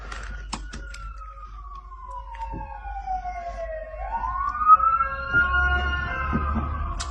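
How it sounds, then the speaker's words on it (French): An ambulance siren wails on a US street, its pitch sweeping down then rising again as it passes close by, loud over steady traffic rumble with a few sharp clicks. "On a les ambulances qui vont passer."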